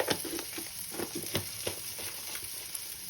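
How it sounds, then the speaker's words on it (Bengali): A spice mix for Bengali boal fish curry, seasoned with pink salt, sizzles and fries in a pan, with soft stirring scrapes over a steady close-up crackle. "আবার কিছুক্ষণ কষিয়ে নিচ্ছি।"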